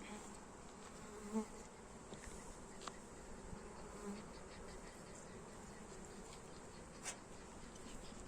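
Honey bees buzz steadily at an open beehive during a hive inspection, a dense, continuous drone close by with scattered individual bees passing near, and no one speaking.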